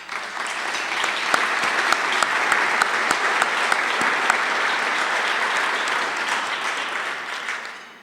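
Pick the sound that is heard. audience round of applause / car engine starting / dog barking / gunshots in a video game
audience round of applause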